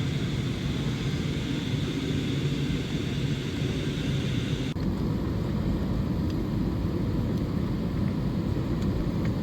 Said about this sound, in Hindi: अब हमारी फ़्लाइट लैंडिंग के लिए तैयार है और धीरे धीरे धीरे धीरे धीरे रनवे पर लैंडिंग के लिए जा रही है।